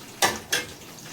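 Curry leaves drop into hot oil in a small pan while bitter gourd curry is being made, giving two short, sharp sizzling bursts a moment apart before the oil settles back to a quiet hiss.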